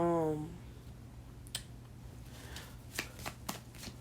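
Tarot cards are shuffled in a few quick, soft riffling bursts, close and fairly quiet, following a brief tone at the start.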